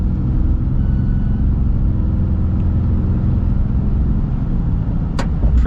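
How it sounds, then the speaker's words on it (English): A 2024 Ram 2500 Tradesman pickup with the Cummins diesel and 68RFE transmission accelerates, heard from inside as a loud, steady low rumble of engine and road noise with a brief higher whine near the end. "Now we'll see what the acceleration's like here"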